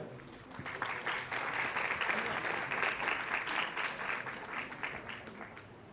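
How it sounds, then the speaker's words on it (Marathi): A dense, sustained burst of audience clapping fills a stage launch event for a Marathi film's promotional song, steady and loud throughout with faint crowd murmur underneath. "सो त्याच्यासाठी जोरदार टाळ्या"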